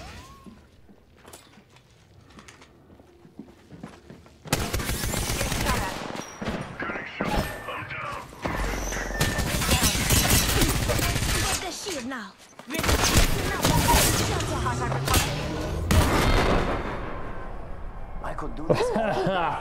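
Bursts of automatic and single-shot gunfire in Apex Legends on the Kings Canyon map, loud rapid volleys starting a few seconds in and continuing in dense stretches with brief pauses, mixed with footsteps and a player talking.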